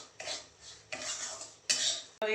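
Semolina being fried in white oil for halwa, heard as bursts of scraping and stirring against a pan with a soft sizzle underneath, repeated in three sweeps and ending with a sharp metallic clink.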